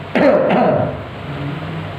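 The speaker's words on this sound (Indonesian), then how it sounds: "Kita bersin. Batuk." One short, throaty cough bursts out close by, followed by a brief rough follow-up and then quiet background.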